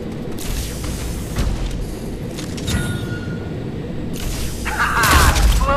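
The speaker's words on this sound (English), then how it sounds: "Ha-ha! Explosions! Music to my ears." Explosions in the video game Farlight 84 during an intro mission, a dense rumbling barrage of booms with crackling debris and mechanical noise, swelling louder toward the end.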